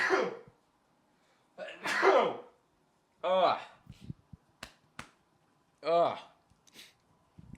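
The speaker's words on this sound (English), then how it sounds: "I'm gonna sneeze." A person sneezes several times in a row, with short sharp nasal bursts separated by pauses and a few small clicks and breaths between them.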